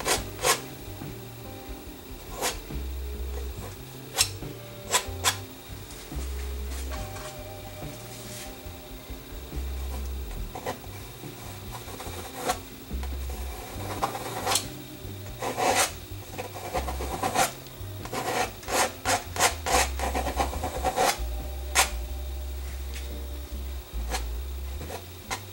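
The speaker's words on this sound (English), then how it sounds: "I'm just using my palette knife and just scraping this on." Palette knife scraping oil paint across a canvas during a landscape painting, a steady close rasping rub with repeated short sharp strokes, no talking.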